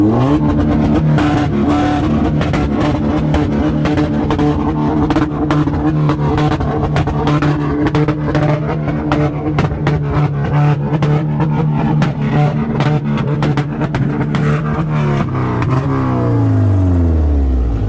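A loud Chevy car engine revs hard and roars continuously at a two-step competition, with rising and falling pitch and a rough, clattering exhaust note, close by.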